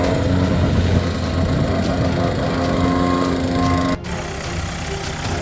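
A skid steer engine running steadily and loud, a rough droning rumble with a slight shift in pitch near the end, close by and without talk.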